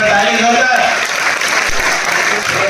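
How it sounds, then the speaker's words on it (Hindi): Loud, steady applause from an audience at an RCM business presentation event, continuous clapping filling the whole moment, with faint voices mixed underneath. "एक बार ताली जोरदार।"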